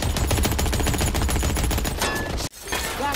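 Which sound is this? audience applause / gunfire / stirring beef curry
gunfire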